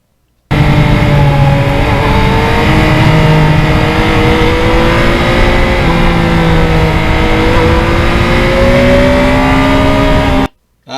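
A 2020 Yamaha MT-09 motorcycle pulls hard along a back road, its engine note rising through successive gears with quick-shifter changes, loud and steady from start to finish with no talking.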